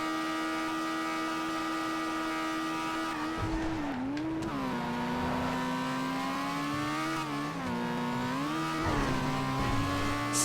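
An Annis RE-7B race car in GTA revs loudly and continuously, its engine pitch climbing and dipping through gear changes, with brief tire squeal and no talking.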